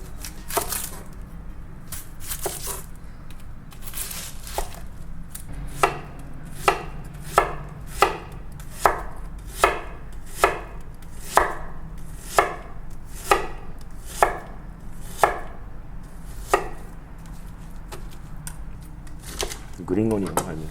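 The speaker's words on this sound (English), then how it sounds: "first step I'm gonna do cut the vegetable first" A knife chops vegetables and green onion on a cutting board while making yaki udon: a steady series of sharp, close chops that starts sparse and quickens, with quiet voices in the background.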